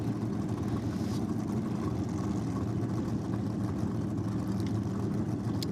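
Two drag racing cars, one with a Chev 409 engine and one with a 350 Chev in a Torana, rumble steadily at a drag strip, a dense low engine drone with no talk.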